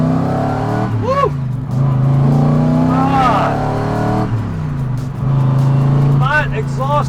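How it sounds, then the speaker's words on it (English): A 1996 AC Cobra MKIV's exhaust note rises and falls as it drives and shifts, a loud, close engine drone with revving climbs and dips between gears, while someone talks over it. "That exhaust note just put a smile on your face."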